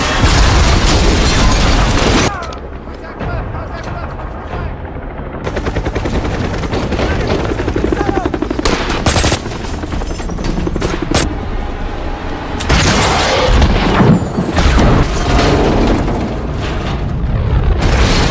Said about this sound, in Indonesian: Namun Nick berhasil menjatuhkan helikopter India dengan RPG-nya.